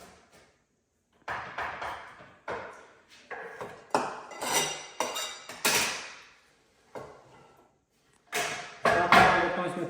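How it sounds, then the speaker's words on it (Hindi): A knife finely chops cabbage and carrot on a board, giving a string of sharp, close thuds in short rapid bursts with brief pauses between them, and no talk over it. "अब मैं गोभी को और गाजर को भी चॉप कर लेता हूँ, बारीक चॉप।"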